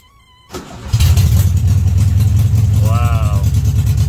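A 1974 VW Super Beetle engine in neutral, with leftover fuel from the day before, cranks briefly, fires up and settles into a loud, steady, throbbing idle close by.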